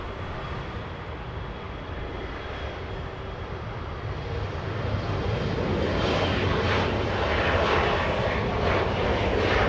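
An SAS airliner departs Los Angeles International Airport, its jet engines a loud, steady roar that swells as it accelerates down the runway, heard from a distance.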